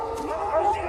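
Dogs bark and yelp in a brief, tense burst during a violent attack scene from the film Django Unchained, mixed with vocal sounds.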